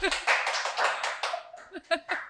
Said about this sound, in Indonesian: Kita kedatangan Uma, tepuk tangan dong.